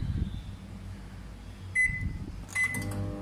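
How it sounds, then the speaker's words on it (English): A microwave oven heating food in a home kitchen, a low steady hum with soft clatter, followed by two short electronic beeps near the end. "what I'll do is I'll just microwave it."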